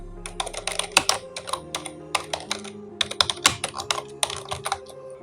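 Rapid keystrokes on a computer keyboard while Java code is typed, clattering in quick uneven bursts with short pauses, close and clear with no one talking.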